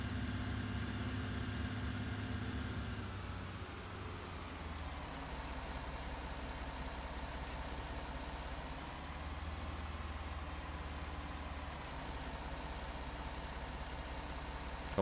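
Tractor engine idling and running steadily in Farming Simulator 19, a constant low rumble that drops slightly in pitch after a few seconds and holds without talk.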